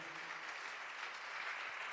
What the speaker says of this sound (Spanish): Ese fuerte aplauso para Él.